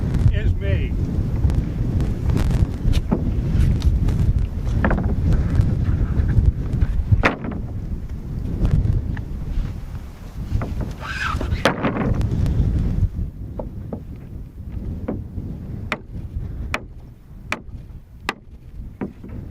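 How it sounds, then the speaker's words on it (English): Wind gusts buffeting the microphone outdoors at an off-grid home build site, a loud continuous low rumble that swells and eases, with scattered knocks and clicks, quieter toward the end. "Wind is a problem."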